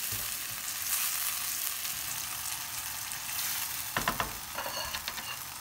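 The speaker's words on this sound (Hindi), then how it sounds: "इधर मेरे मीट बॉल रेडी हो रहे हैं।" Meatballs for Italian meatballs with tomato sauce sizzle and fry in a pan, a steady close crackle with louder spattering bursts toward the end, no talking.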